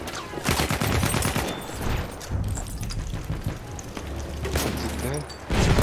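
Gunfire aimed at a heavy tank in Battlefield 1, loud rapid bursts of automatic shots with booming impacts, close and dense, with voices talking over parts of it.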